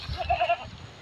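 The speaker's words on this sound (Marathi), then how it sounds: "ते पहा सर्व शेळ्या टणटणीचा पाला खात आहे." Goats grazing on lantana (tantani) leaves give a few short, close bleats in quick succession over soft background noise.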